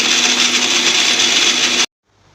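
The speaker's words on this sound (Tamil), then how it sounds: "அதுக்கு தேங்காயும் சீரகமாக அரைச்சிக்கிறேன்" A kitchen mixer grinder whirs loudly, grinding coconut and cumin into a paste, a steady high-pitched motor whine held for nearly two seconds before it cuts off abruptly into near silence.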